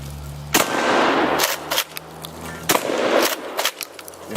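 A Turkish shotgun fires at targets outdoors: several loud, sharp blasts come at irregular intervals, each followed by a short echoing decay, with no talking.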